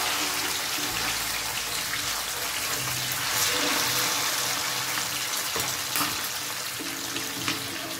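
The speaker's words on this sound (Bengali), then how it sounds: "মাছটা ভাজতে হবে খুব সাবধানে," Bacha fish sizzles in hot oil in a pan for a dopiaza dish, a steady crackling hiss with scattered pops that continues evenly throughout.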